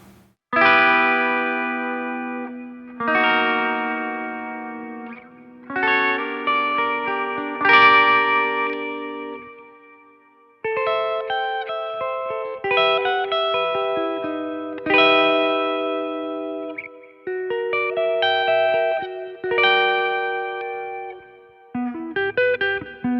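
Clean electric guitar chords from a Schecter KM7 with passive pickups ring out one after another, each strum sustaining with a shimmer of reverb and echo, played alone at moderate volume.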